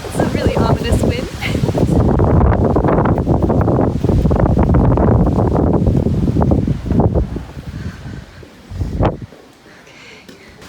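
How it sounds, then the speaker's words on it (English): Strong wind blowing outdoors at an old prison, a loud roaring buffet across the microphone that dies down near the end, with a voice speaking briefly. "It's a really ominous wind."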